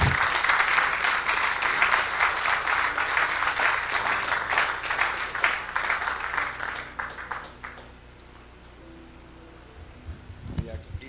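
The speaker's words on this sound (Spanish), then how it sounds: "dele un aplauso a Cristo" Sustained church congregation applause with dense clapping for several seconds, gradually thinning out and fading, then a few scattered claps near the end.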